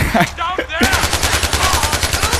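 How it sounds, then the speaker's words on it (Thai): Rapid bursts of gunfire from villagers in the video game Far Cry 4, loud, close and repeating in a fast steady rhythm, with a few short vocal sounds at the start. "ยิงปืนไม่เป็นนะฮะ ยิงมั่วเลย"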